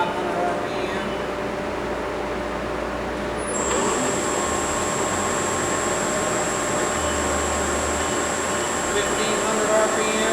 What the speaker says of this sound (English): we can start the spindle